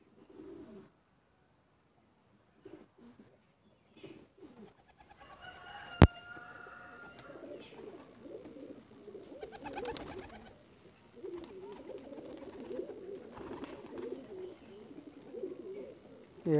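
Pigeons coo softly in a loft, the black-seeded (kalo dana) birds murmuring in low, rolling bursts with other birds faintly around, a sharp click midway and a voice speaking briefly.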